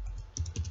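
A few quick keystrokes tap on a computer keyboard, close and fairly quiet, with no talk over them.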